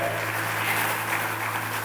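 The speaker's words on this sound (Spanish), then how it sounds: "¿Cuántos pueden celebrar ese perdón con un aplauso, con un grito?" A church congregation at a Saturday communion service breaks into applause, a dense, even wash of clapping from many hands over a low steady hum.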